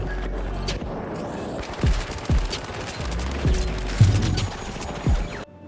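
P90 submachine gun fire in the shooter game The Finals comes in several rapid, loud bursts, each a quick rattling string of shots with short pauses between them and no talk.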